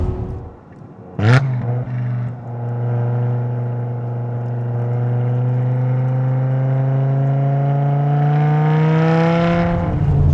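A BMW M5 engine gives a sharp rev-matching blip, then pulls hard through a long rising acceleration, loud and close from inside the car, its tone climbing steadily for several seconds.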